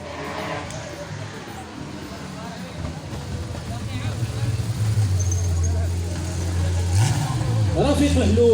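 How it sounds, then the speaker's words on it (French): A Porsche 911 prepared for the track revs through a U-turn at a vintage car race in Dakhla, the engine drone rising and wavering, with a crowd behind it and an announcer talking over it. "Le spectacle, un demi-tour à l'américaine sur cette Porsche préparée pour la piste."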